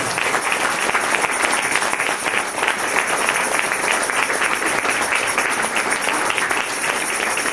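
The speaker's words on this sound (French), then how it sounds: "Est-ce qu'on peut encore applaudir le Seigneur?" A church congregation applauds the Lord in steady, sustained clapping, loud and even throughout with no pause.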